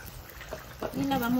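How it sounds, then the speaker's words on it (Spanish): Water poured into a cooking pot of Michoacán-style carnitas sauce with chiles and tomato, a short splashing pour that swells and fills over about half a second near the end. "Ahora le vamos a agregar una poca de agua."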